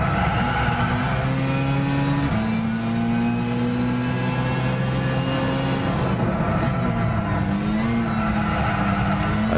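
Race cars in Gran Turismo 6 roar through a racing field, steady loud engine drone with shifting pitch as gears change, continuous and close throughout with no talk over it.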